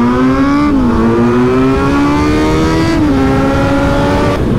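A 2021 Kawasaki Z900 motorcycle with an Austin Racing aftermarket exhaust drones loudly and steadily, its pitch rising gradually and dipping at gear shifts, with a throaty exhaust note throughout.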